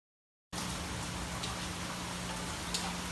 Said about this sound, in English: it's raining, so if you hear some background noise, that's it